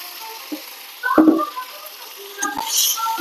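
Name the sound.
paneer pieces frying in hot oil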